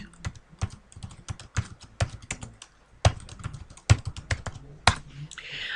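Rapid typing on a computer keyboard while entering login credentials, with close, crisp key clicks in irregular bursts and brief pauses, heard alone.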